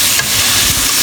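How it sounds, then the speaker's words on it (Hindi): Masala roasting and being stirred in a pan for dhaba-style aloo bhindi masala, a steady close sizzle with soft scraping stirs running throughout, loud and continuous, no voices. "ये देखिए आप इस सारे मसाले को अच्छे तरीके से हम भुनाई करेंगे"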